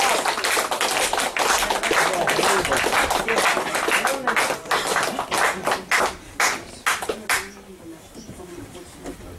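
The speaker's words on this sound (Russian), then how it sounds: "Давайте мы его встретим бурными аплодисментами" Lively audience applause at a graduation party greeting performer Taras Kulakov, dense clapping that thins into scattered individual claps near the end.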